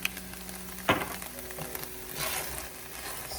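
Omelet ingredients sautéing in a pan, a steady soft sizzle with a brief clack and the scrape of stirring partway through, close and fairly quiet.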